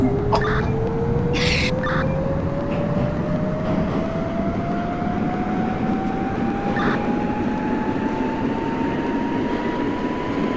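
A metro subway train on the Utica run in the openBVE simulator game drones loudly and steadily as its motor whine climbs in pitch while accelerating, with a few sharp clicks and bursts of hiss over the rumble.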